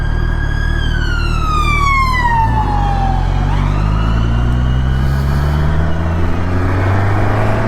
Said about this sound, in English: I've got an ambulance coming up.